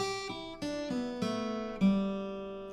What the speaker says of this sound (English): So the first guitar riff is going to sound like this.